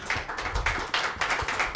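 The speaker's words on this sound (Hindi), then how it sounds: "ज़ोरदार तालियों से इस्तकबाल करें" Audience applause at a poetry recital (mushaira), a short burst of steady, dense clapping heard fairly close.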